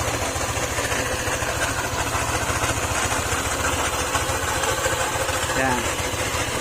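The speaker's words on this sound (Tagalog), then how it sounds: "kala mo may bakal na nagigiling o nag-uumpugan parang nagkakaskasan ganun" A Honda ADV 150 scooter engine idles steadily and loudly throughout, with a rough, scraping metallic rattle like grinding metal running through the motor.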